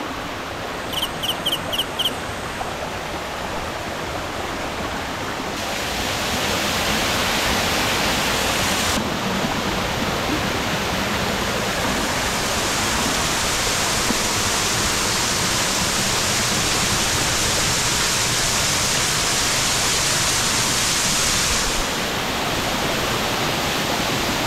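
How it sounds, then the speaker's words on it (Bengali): Shilbunia waterfall in the hills near Alikadam, Bangladesh, pours from two sides with a heavy flow. It makes a constant broad roaring rush from start to end, with a few brief high clicks at the very beginning. "ওয়াও, 2 পাশ থেকে পানি পড়তেছে, পানির ফ্লো অনেক বেশি।"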